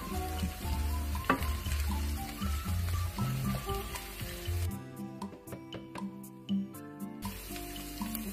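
Garlic and onion sauté in a pan over a soft continuous sizzle mixed with clattering kitchen noise and a burst of running water partway through, all fairly quiet.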